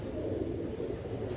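Chandrakhani pigeons of an original bloodline coo softly in a steady, low murmur that runs throughout, close and continuous with no talk over it.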